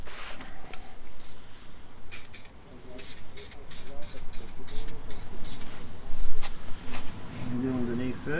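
Aerosol lacquer sprayed from a can onto the sill of a three-year-old Fiat Panda during a DIY repair, in a series of short hissing bursts under background noise.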